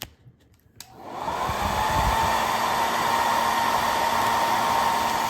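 Heat gun blowing hot air onto a MacBook Pro A1398 keyboard during replacement: a click, then a steady loud whooshing roar that starts about a second in and holds evenly to the end, with a faint high whine riding on it.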